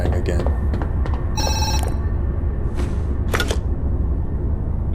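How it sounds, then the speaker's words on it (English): Telephone ringing in the Zoochosis video game, with sharp electronic bell bursts heard over a low, steady rumble of game ambience, followed by a few shorter clicks and chirps. "The phone rang again."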